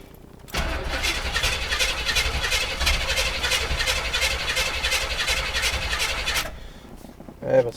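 A 1981 Chevrolet Blazer starts from cold, cranking briefly and then catching into a loud, close, steady idle that runs for several seconds before cutting off.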